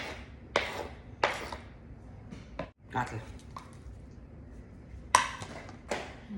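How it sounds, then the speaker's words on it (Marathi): A knife chopping onion on a cutting board in a home kitchen while cooking pav bhaji, with several sharp, separate cuts spread out over a few seconds against a background of room noise. "चला आपण आता कांदा चिरू"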